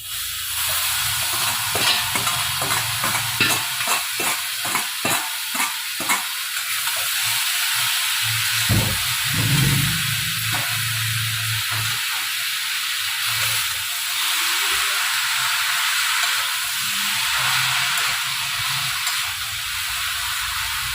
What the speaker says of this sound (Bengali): মশলাটা কষানো হয়ে গেছে এরপর আমি বাঁধাকপিটা দিয়ে দেবো